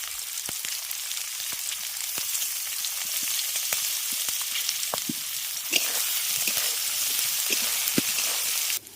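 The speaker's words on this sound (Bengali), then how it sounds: "সবজিগুলো ভাজার সময় আমি এর মধ্যে সামান্য লবণ ব্যবহার করছি" Vegetables frying in a pan with a little salt, giving a continuous crackling sizzle with scattered sharp pops and spits, close and fairly loud, with no voices.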